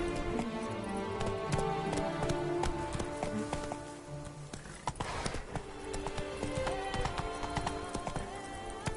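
Roach the horse galloping in The Witcher 3, with rapid rhythmic hoofbeats clip-clopping steadily and close over game ambience, with one brief louder rustle midway.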